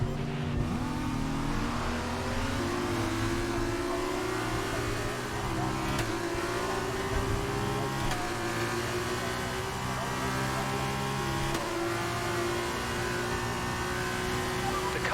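Race cars in an F2 racing game roar continuously through a restart at a virtual Australian circuit, engine tones rising and shifting with occasional tire squeal, while a commentator talks over the racing.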